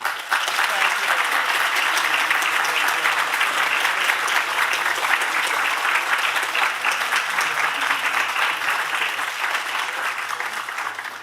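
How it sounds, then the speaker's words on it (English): A large audience at the Lublin International Medical Congress claps steadily for the organizing team, a thick, even wash of applause that holds at full strength throughout. "Make a big applause for these people."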